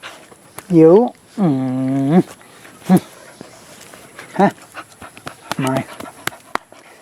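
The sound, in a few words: dogs barking and panting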